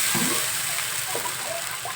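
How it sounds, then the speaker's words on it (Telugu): Two glasses of water poured into a pan of telagapindi curry with small fish: a steady, close gushing splash lasting about two seconds, with no talking. "రెండు గ్లాసులు వాటర్ వేస్తాం."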